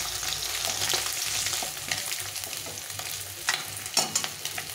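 Fish sizzles in hot oil in a pan, a close, continuous crackle with a few brief louder spits and pops toward the end.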